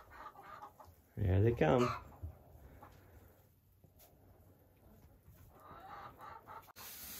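Backyard chickens clucking, soft and moderately near, with a loud burst of a man's speech partway through and someone speaking quietly near the end.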